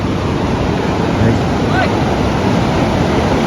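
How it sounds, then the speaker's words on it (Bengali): Night-time ocean waves at Cox's Bazar roar as a steady, loud wash of surf, with constant rushing noise and no pauses. "রাত্রে যে সমুদ্রে গর্জন"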